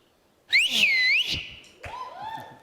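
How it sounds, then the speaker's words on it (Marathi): A loud, sharp whistle with rising and falling pitch sweeps out on a comedy show stage, followed by a second, softer whistled phrase. "मी शिट्टी वाजवणार आहे"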